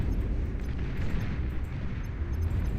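A volley of torpedoes fired in the real-time strategy game Beyond All Reason produces a continuous deep, rumbling roar of launches and underwater blasts, loud and dense for the whole stretch without distinct separate hits.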